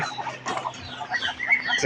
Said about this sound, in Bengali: এই যে হচ্ছে আমার লালচে মুরগিটা আলহামদুলিল্লাহ আজকে ডিম পেরেছে